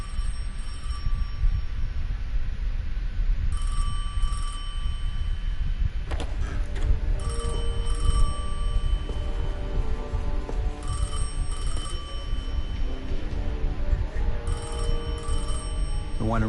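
A telephone rings repeatedly in Destiny 2: The Edge of Fate, bright metallic bell bursts in a regular pattern over a dense, rumbling ambient bed, with no talking.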